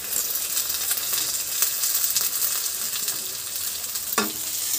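Pea peels and tomato sizzle and fry in a pan, a steady close hiss with occasional stirring scrapes and a single sharp clink near the end, no voices.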